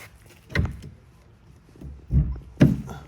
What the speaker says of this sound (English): It's going to open like a standard cargo door.